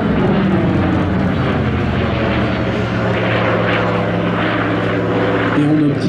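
A powerful propeller-driven warbird with a large propeller, a Corsair-style carrier aircraft, drones loudly and steadily throughout at an air show, its engine roar unbroken and close.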